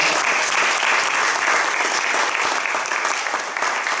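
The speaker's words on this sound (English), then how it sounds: "let's give them a round of applause" Theatre audience applauds volunteers at a community playhouse, a dense, steady burst of clapping that fills the room for several seconds.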